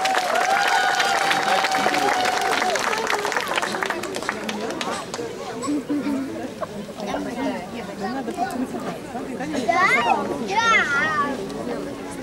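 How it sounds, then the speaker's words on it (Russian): Audience applause at a song festival held in memory of a bard: a crowd claps and murmurs steadily throughout, with a tone fading early on and louder bursts of clapping near the end. "Ваши аплодисменты."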